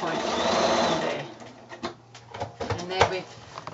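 A sewing machine stitches binding around a quilted shoulder bag, a steady whirring run that then breaks into short bursts and stops, close up, while a person talks over it.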